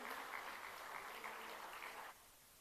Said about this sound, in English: The applause has to continue